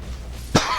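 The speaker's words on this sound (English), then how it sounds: "Sorry about that cough" A single sharp, close cough bursts out once after a quiet moment, with a short rough tail trailing off.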